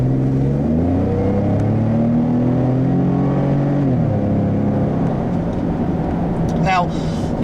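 A 2014 Ford F-150 Tremor pickup accelerates hard on a road drive, its engine note climbing in pitch, dropping at a gear change, then rising again, with wind and road rumble underneath and someone talking over it.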